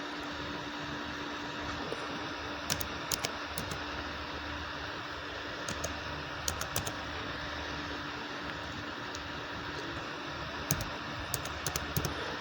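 Computer keyboard keys tapped in short irregular clusters while entering a Zoom meeting ID, faint clicks over a steady background hiss.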